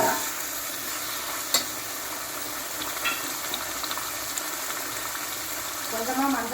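Steady sizzling of blood frying with onions in a pan, with occasional stirring clinks and a brief sharp knock early on.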